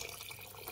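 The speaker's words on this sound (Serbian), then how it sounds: "Sada dodajemo otprilike litar i pol tople vode." Warm water pours into a pot, a brief, quiet, steady rush of liquid.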